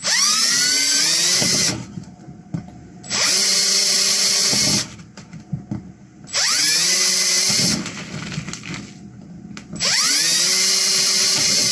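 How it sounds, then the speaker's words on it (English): A power drill pre-drilling holes in upcycled metal for a backpacking stove, four loud whining bursts that rise in pitch as the motor spins up, separated by quieter pauses with small clatters. "I'm set up today for a drill, so we're going to go ahead and use a drill"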